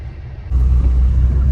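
A car drives off-road through deep snow, a low engine rumble that jumps louder halfway through as it pushes on, with a steady heavy roar and no voices.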